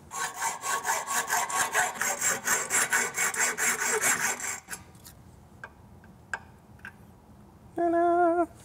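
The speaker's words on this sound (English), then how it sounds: "And then to cut it, I'll just use a hacksaw." A hacksaw cuts through round metal bar stock in a fast, steady run of rasping strokes that stops halfway, followed by a few light clicks and a short tonal whine.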